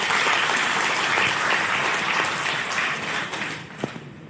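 Audience applause fills the room in a loud, dense, sustained burst of clapping that holds steady and then gradually thins out toward the end, with no talking over it.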